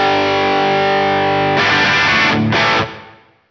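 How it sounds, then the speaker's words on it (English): Electric guitar played through a NUX MG-30 multi-effects unit with a large plate reverb, a sustained distorted chord followed by two short chords whose wash rings out and fades away. "That's a big plate reverb."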